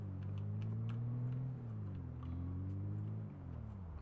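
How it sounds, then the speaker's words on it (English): Truck engine in the Project Zomboid video game, a steady mid-pitched drone that rises and dips slightly as it runs, fairly quiet and continuous with no talk. "they're following the sound of your truck."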